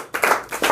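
Students in a classroom clap in a brief, quick burst of about three sharp hand claps, close and fairly loud.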